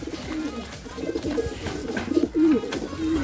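A racing pigeon coos nearby in soft, throaty repeated calls, with faint rustling and background noise around it.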